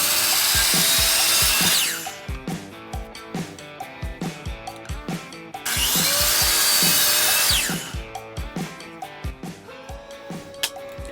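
Two bursts of power-saw cutting through 1x6 wood boards, each about two seconds of loud, broadband whine, followed by a steady pattern of rhythmic knocks and clatter, repeated twice.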